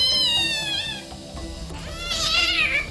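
Injured kitten with a fractured leg at the vet, giving several loud, close, high wavering meows and a drawn-out cry of distress, with no speech.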